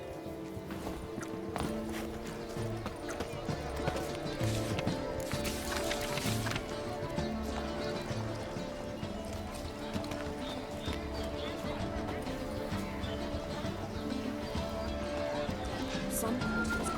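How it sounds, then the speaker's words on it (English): A horse's hooves clip-clopping in The Witcher 3, steady and fairly close under a continuous game soundscape and a voice talking. "Whoa there, Roach."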